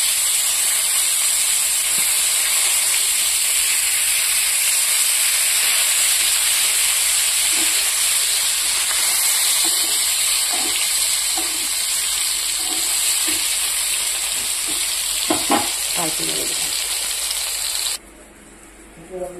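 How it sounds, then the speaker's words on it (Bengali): Pointed gourd (potol) slices fry in a pan with a continuous, close hiss that holds steady for most of the time, then drops off abruptly near the end, with faint scattered knocks. "পটলটা ভাজার জন্য বসিয়ে দিয়েছি"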